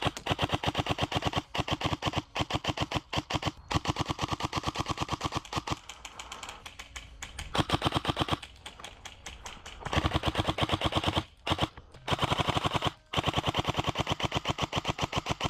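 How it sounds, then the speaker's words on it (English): A G&G SSG1 airsoft gun fitted with an 11-volt battery fires in rapid bursts as the trigger is pulled fast, giving loud, close, sharp mechanical clattering strings broken by brief pauses. "listen to how hard I can run this trigger for an out-of-the-box G&G"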